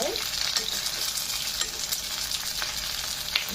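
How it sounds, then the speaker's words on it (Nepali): Momo dumplings sizzle steadily in hot oil in a pan, a dense continuous frying hiss with faint stirring clicks, close and without voices. "मोमोलाई मजाले फ्राई गर्नुहोस् मोमोलाई।"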